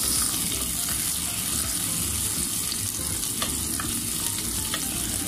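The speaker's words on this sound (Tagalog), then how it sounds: "ilagay ang bawang. Saute lang din natin." Garlic and onion sautéing in a pan for beef oxtail sinigang, a dense steady sizzle with occasional clicks of a spatula stirring, close and continuous with no talking.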